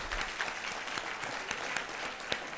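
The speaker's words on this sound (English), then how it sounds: "I do want to give another round of applause to Olin Douglas" A crowd claps steadily in dense, continuous applause, close and even throughout.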